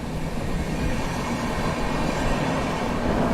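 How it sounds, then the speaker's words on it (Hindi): The Purushottam Express bound for Anand Vihar Terminal from Puri approaching, a steady loud rumble of rolling wheels and rail noise that grows slightly as it nears. "यहाँ पर सामने से आती हुई आनंद विहार टर्मिनल पूरी पुरुषोत्तम एक्सप्रेस"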